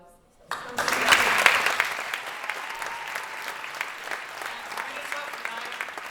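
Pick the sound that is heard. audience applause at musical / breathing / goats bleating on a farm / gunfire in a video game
audience applause at musical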